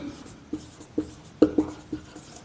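Chalk or marker writing on a board, a series of short scratchy strokes and taps in an uneven rhythm, close and fairly clear, with no speech.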